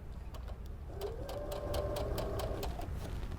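A sewing machine runs steadily as it stitches a quarter-inch seam in quilting fabric, a close, even mechanical whir with rapid rhythmic ticking and no talking.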